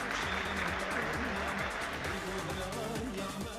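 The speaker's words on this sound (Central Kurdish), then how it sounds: "چەپڵە ڕێزانێکی جوان" Steady, dense clapping from a crowd at a combined exercise and Kurdish folk-dance (halparke) session, sustained at close range for the full stretch, with faint music underneath.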